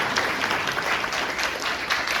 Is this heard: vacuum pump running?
no